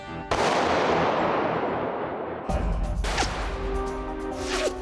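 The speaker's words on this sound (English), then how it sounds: "Seating the gun rest. Firing in 3, 2, 1." A rifle fired from a gun rest goes off with one sharp, loud report followed by a long decaying echo, then a second booming impact and some metallic rattles and whines trailing off outdoors.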